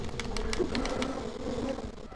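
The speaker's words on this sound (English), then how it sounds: "the bees are angry!" Angry bees buzz in the video game Barnyard, a steady droning hum with faint repeated clicks layered over it, heard alone without talk.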